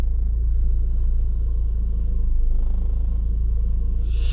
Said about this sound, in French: des fois, j'ai l'impression que le ralenti est instable.